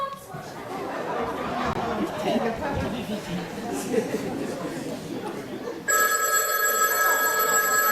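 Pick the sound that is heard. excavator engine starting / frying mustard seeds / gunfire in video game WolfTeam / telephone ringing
telephone ringing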